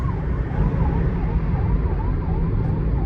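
Ambulance siren wailing in traffic, its rising and falling tone cycling repeatedly over a low rumble of engines and road noise, loud and close.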